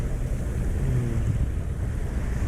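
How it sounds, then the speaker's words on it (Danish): A sailboat motoring at sea between Sjællands Odde and Samsø, with a steady low engine rumble, wind buffeting the microphone and waves washing past continuously. "Men vi kører fortsat med motor."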